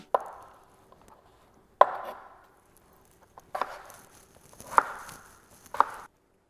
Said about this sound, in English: Let's chop up some carrots.